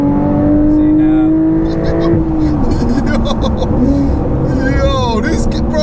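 A modified Porsche 911 992.2 engine revs and pulls hard under acceleration, a loud, continuous drone that climbs and shifts pitch, heard from inside the car with voices talking over it.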